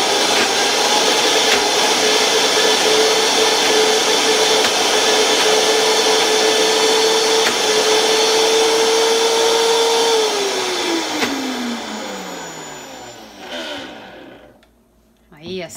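A handheld immersion blender whirs loudly at a steady pitch for about ten seconds blending chipotle hummus, then winds down with a falling whine before stopping, followed by brief clatter.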